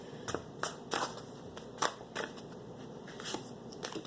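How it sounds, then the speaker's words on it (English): Cards drawn and shuffled from a fairy oracle deck, a run of crisp, close papery snaps and rustles in an irregular rhythm, quiet and with no voice. "I'm going to pull a card or two from the fairy deck"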